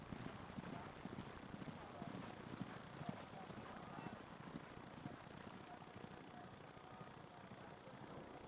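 Racehorses gallop down the backstretch at a 1997 St. James Farm steeplechase meet, a faint, distant drumming of hooves blurred into a steady outdoor wash of noise.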